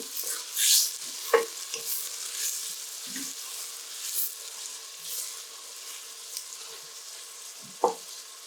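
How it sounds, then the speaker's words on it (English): Chopped onions fry gently in a pan over low heat for urad dal, giving a soft, steady sizzle with a few scattered spoon clicks and scrapes, quiet and close with no voices. "So leave the onions to get cooked until it's goldenish."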